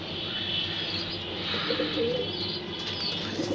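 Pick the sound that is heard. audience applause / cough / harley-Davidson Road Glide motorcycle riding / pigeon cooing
pigeon cooing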